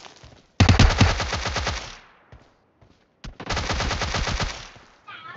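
Rapid automatic gunfire from a PUBG Mobile match, two loud sustained bursts of fast shots split by a short quiet gap, close and dominant with no talking.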